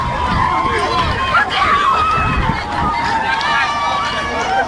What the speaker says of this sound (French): C'est la débandade totale.